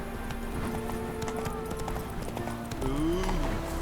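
Roach, the horse in The Witcher 3: Wild Hunt, clip-clopping along in a steady hoof rhythm, close and fairly soft, with a brief whinny-like tone near the end.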